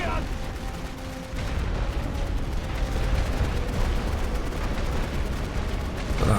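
Continuous rumbling barrage of artillery and gunfire from a World War I trench battle in The Great War: Western Front, dense and steady throughout, with faint speech-like murmur in the mix.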